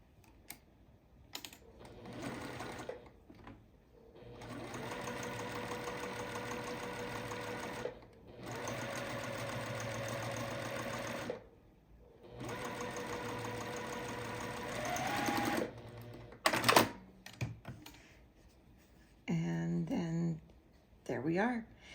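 A sewing machine stitches a quilt block for a lotus-pattern floral quilt, running in several bursts of steady, close mechanical whirring with short pauses between runs.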